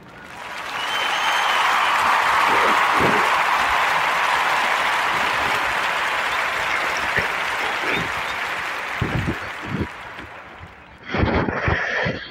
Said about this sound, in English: give a warm narrative podcast round of applause to him